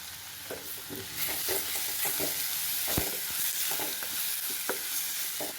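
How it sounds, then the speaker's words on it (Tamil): Ginger, garlic and tomatoes fry in a pan for a Kerala-style sardine dish while being stirred, a steady sizzle broken by scraping strokes and a few sharp knocks, close and without speech. "இஞ்சி பூண்டு கொஞ்சம் வதங்கியாச்சு."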